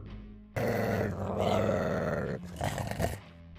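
A dog growls angrily while facing a tiger in a game scene, a deep, sustained rumbling snarl that rises loudly and holds for a couple of seconds before breaking into shorter grunts.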